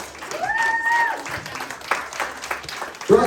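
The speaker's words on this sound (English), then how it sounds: "Round of applause for our lineup" A talent show audience applauds the lineup in a brief, moderate burst of clapping, with a couple of whistle-like tones riding over the crowd noise.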